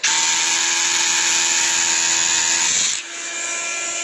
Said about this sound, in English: all you do is line up your drill bit, pop it down, and then go